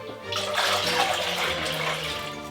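Tap water runs hard into a cooking pot being filled to measure water for pasta, a steady close rushing splash lasting the whole stretch.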